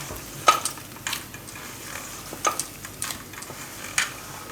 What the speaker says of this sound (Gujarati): આપણે મિક્સ કરી લઈએ બધું આમાં હાથથી એકદમ આ રીતે